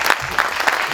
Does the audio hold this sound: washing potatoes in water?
no